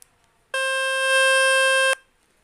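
A loud, steady electronic tone from the Fix My Speaker website, played on a mobile phone at full volume to clean the speaker, sounds alone for about a second and a half, then stops abruptly.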